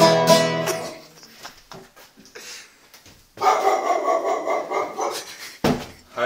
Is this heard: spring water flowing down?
no